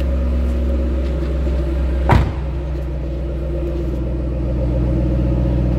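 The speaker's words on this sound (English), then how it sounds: "Great sounding engine. Nice little rumble, deep throaty sound." A 2012 Ford Mustang Shelby GT500 engine idles with a steady, deep, throaty low rumble, broken by one brief thump partway through.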